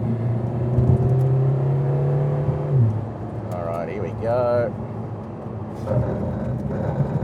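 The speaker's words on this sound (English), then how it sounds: "Stand on the brakes and let's see what happens." A Lotus Emira Turbo brakes hard from about 100 km/h: the engine drone drops away abruptly, then tyres squeal in wavering tones before the car settles, with someone talking briefly inside the cabin at the start.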